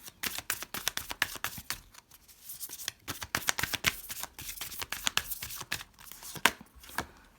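Oracle cards are shuffled close up in quick, crisp riffles and slaps, a dense run of papery flicks with short pauses between bursts and no talking.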